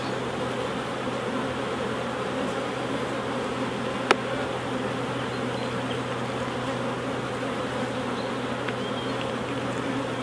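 Honey bees buzzing steadily around an open hive during queen rearing, a dense continuous drone close by with no talk, one brief faint click partway through.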